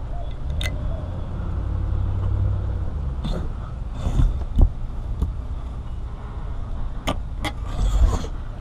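Car window glass sliding in its frame while the car runs, a low steady rumble with a few brief scraping ticks and soft knocks spread through it. No one speaks.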